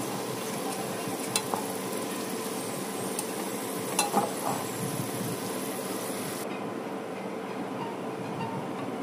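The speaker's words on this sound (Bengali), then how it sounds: "খুব ভালো মতো সব নাড়িয়ে ভেজে নেব।" Potatoes and jackfruit seeds fry together in oil in a wok while being stirred, a steady soft sizzle with a few light scraping clicks, heard at moderate level with no talking.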